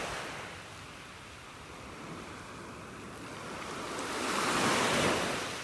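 Ocean surf rolls onto a beach in North Naples, Florida, a steady wash of breaking waves with wind noise that swells louder toward the end, no voices.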